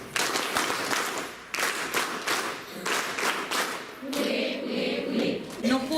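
Audience applause welcoming a speaker at a workshop, a dense sustained patter of many hands clapping throughout, fairly loud and even with some varying intensity.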